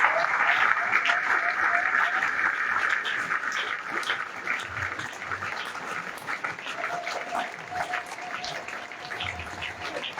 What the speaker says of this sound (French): Est-ce qu'on peut applaudir notre Dieu?